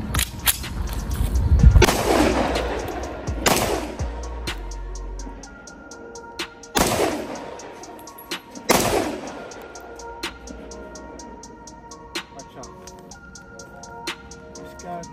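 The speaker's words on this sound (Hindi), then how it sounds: "अभी इसको चलाते हैं, टेस्ट फायर करते हैं, आपको दिखाते हैं" Zastava M57 .30 bore semi-automatic pistol test fired, with four loud, sharp shots at irregular intervals, each followed by a ringing tail, and fainter clicks and thuds in between.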